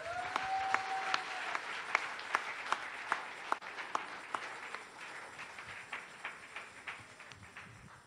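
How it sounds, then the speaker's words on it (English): A church congregation claps hands together at a prophetic worship service, sharp rhythmic unison beats on a steady pulse over a crowd wash, with a brief tone near the start. "Clap your hands for the Lord."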